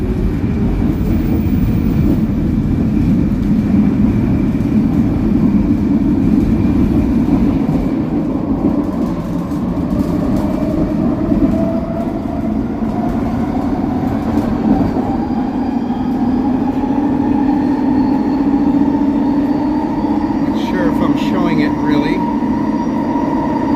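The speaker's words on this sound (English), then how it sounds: "Movement here on the train" A Vancouver SkyTrain car in motion gives a loud, steady rolling rumble with a motor whine that slowly climbs in pitch, continuous throughout.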